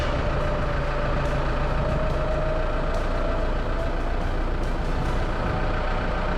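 A 4x4 truck off-road beside the Murray River churns through a sand crust, its engine a loud, steady low drone with a faint whine and sharp gritty crackles scattered through, no voices.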